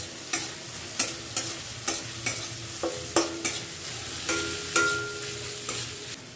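Bay leaf and cardamom stirred in hot oil in a frying pan, a soft sizzle under a series of sharp, evenly spaced scrapes and taps of a spoon against the pan, fairly quiet overall.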